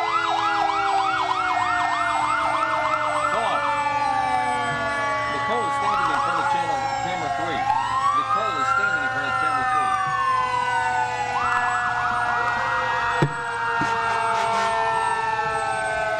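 Fire truck sirens sound during an autumn parade in 2018: several wailing and yelping sirens overlap loudly and continuously, rising and falling in sweeps, with a low engine drone and a sharp horn blast beneath.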